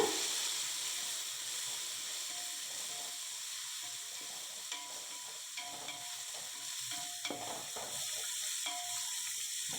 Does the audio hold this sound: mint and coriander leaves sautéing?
yes